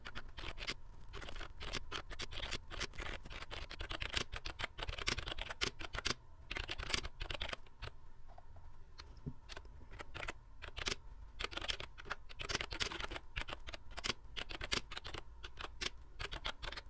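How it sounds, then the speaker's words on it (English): Rapid clicks of typing on a computer keyboard, steady and fairly close, running for the whole stretch with short pauses and no talking. "Now I'm going to type here description."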